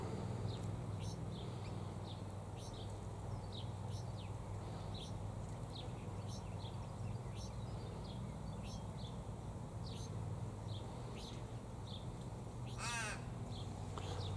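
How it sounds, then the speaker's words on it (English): Australian ravens feeding on nectar in a silky oak tree give repeated harsh caws at a distance, spaced out across a steady outdoor background hum, with one longer drawn-out call near the end. "The honey-eating raven."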